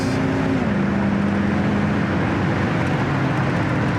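A 1969 Cougar XR7 convertible cruising down the road at about 65 mph, with a steady engine drone and continuous road and wind roar throughout. No one speaks.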